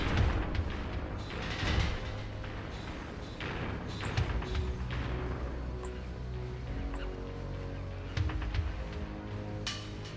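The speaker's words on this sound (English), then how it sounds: "So now, my R2 button is a homing missile." Homing missile fire in a Transformers action game, with repeated low thuds and booms over a dense, steady bed of game noise, no voices.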